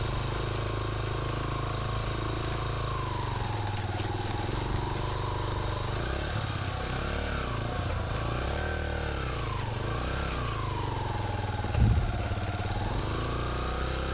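A motorcycle engine labouring steadily up a rough, stony mountain road near Rupal on the way to Nanga Parbat base camp, loud and close throughout, its pitch rising and falling with the throttle, with a brief knock near the end.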